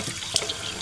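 Tap water runs steadily from a kitchen faucet into a cup, a continuous close splashing stream with a brief brighter splash partway through.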